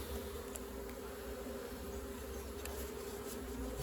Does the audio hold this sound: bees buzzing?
yes